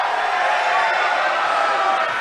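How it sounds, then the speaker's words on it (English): Crowd at a men's college basketball game at East Mississippi roaring in reaction to an opposing player, a dense, loud, sustained wash of voices and jeers that holds steady throughout. "And McQueen will get the treatment from the crowd, as you heard here"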